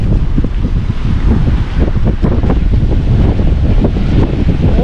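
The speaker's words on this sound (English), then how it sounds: "Today is a pretty windy day." Strong wind batters the microphone on a rough coast, a steady loud roar with gusty buffeting throughout and surf churning underneath, no voices.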